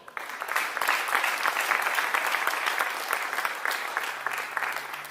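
An audience at a concert of Logudorese songs with guitar in Ozieri applauds singer Matteo Dore with a full, sustained wash of clapping from many hands. The clapping holds steady for several seconds, then eases slightly toward the end.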